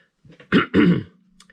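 A couple of harsh, close throat-clearing coughs in quick succession, loud against an otherwise quiet room.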